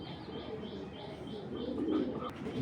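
Giribaz tournament pigeons coo softly and continuously, with a row of evenly spaced higher chirps pulsing above the low murmur, and a slightly louder swell of cooing near the end.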